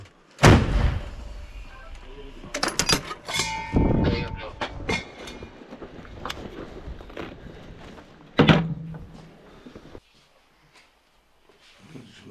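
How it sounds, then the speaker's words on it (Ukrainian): A loud sharp gunshot bang near the start at a frontline war position, followed by clattering thuds and a second sharp crack later, with bursts of activity then near silence. "Постріл!"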